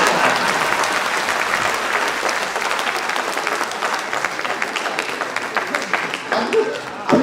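An audience at a Hindi poetry recital gives a sustained round of applause, a dense steady roar of many hands that thins out and grows more scattered toward the end.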